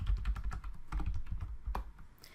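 Keys clattering on a computer keyboard while tasks are typed into the Microsoft To Do app, a quick, close, uneven run of taps with no voices over it.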